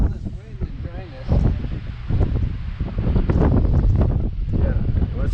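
Wind gusts buffet the microphone outdoors in dry country near Brantley Lake, New Mexico, a steady low rumble that swells louder after the first second and carries on under conversation.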